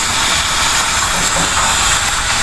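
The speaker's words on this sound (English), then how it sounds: "just keep doing this way, pouring oil over to the puris while you're frying." Puris deep frying in hot oil give a steady, close, loud sizzling hiss with no pauses, while oil is poured over them as they fry.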